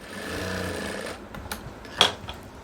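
Sewing machine stitching a skirt, giving a close, steady mechanical whirr for about a second before stopping, followed by a few faint clicks and handling knocks.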